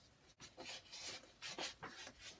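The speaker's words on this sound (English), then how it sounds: "I'll rough up this edge here with a little bit of sandpaper" Wet-and-dry sandpaper rasps back and forth across the edge of a Black Diamond Carbon Z carbon trekking pole, roughly half a dozen quick, close, scratchy strokes in a steady rhythm with brief gaps.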